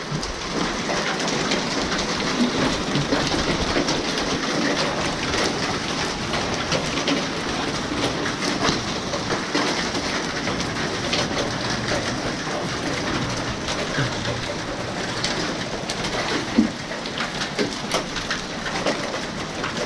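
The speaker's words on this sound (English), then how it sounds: "This is a really bad outbreak of hailstorms today." A heavy hailstorm pelts the ground with a dense, continuous hiss of impacts, steady and fairly distant, with one sharper knock near the end and no talking.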